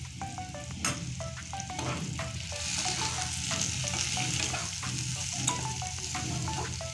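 Coriander goes into a pan of spice mix frying in oil, a steady bright sizzle with scattered crackles and stirring scrapes, close and moderately quiet.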